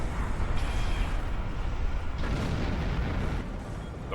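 Heralds firing on a portal in Star Trek Online: a continuous roaring barrage of heavy energy blasts and explosions, dense and loud throughout, with a few sharper swells along the way.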